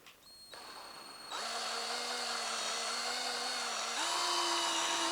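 A power drill spins up and runs steadily with a loud, rising whine while buffing Suzuki Z400 plastic body panels, starting briefly then revving higher and holding, with a further step up in speed near the end.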